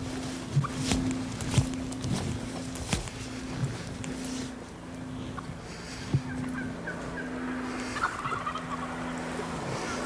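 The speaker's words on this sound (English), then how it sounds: "There's hens out here and gobblers." Several wild turkeys, hens and gobblers, gobble in bursts over a steady outdoor background, some calls nearer and louder, others distant and faint, with no voices.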